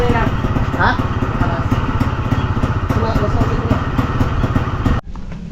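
A motorcycle engine runs steadily and loudly nearby with a throbbing, slightly clattery drone, while voices talk briefly over it, and the engine cuts off abruptly near the end.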